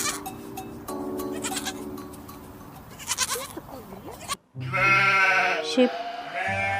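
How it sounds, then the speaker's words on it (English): Goat bleating in short wavering calls, fairly close and clear, with a break partway through before a louder, sustained bleat follows. "goat"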